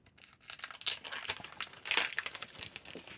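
A comic book being pulled out of a thin plastic bag, the plastic crinkling and rustling in irregular close bursts over a few seconds, without talking.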